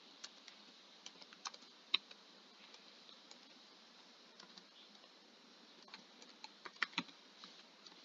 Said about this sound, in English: where I just need to type in a command that will show me